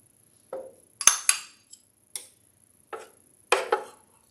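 A spoon scrapes and taps against a container while adding peanut butter to a banana smoothie, with about eight short, close, clinking knocks at irregular intervals and no talking.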